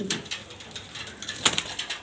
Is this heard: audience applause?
no